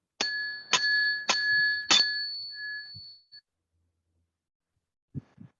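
A ritual bell used to consecrate magical objects is struck four times in quick, even succession, each bright ring lingering and the last fading slowly, followed by a brief soft knock after a pause.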